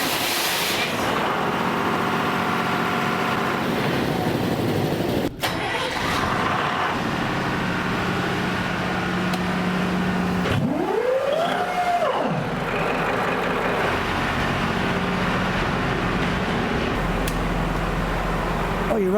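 Ferry diesel engines fire up in an enclosed engine room, a loud steady rumble with a rising whine partway through and a sharp knock near the start.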